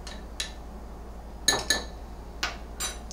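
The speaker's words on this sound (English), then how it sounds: "I'm going to stir up my oatmeal." Spoon stirring oatmeal and water in a bowl, a few sharp clinks against the dish over a steady low background hum.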